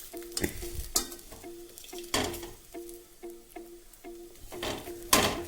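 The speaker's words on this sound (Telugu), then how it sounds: "ఇప్పుడు దీన్ని టర్న్ చేసుకొని ఒక టెన్ మినిట్స్ ఫ్రై చేసుకోవాలి" Sarvapindi, a rice flour flatbread, frying in a pan, with a soft steady sizzle broken by repeated scraping and tapping from a spoon or spatula, plus a few louder clattering strokes, and no talking.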